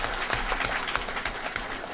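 Party activists at a political gathering applaud together in dense, continuous clapping that sounds close and fairly loud for the whole two seconds, with no voice standing out.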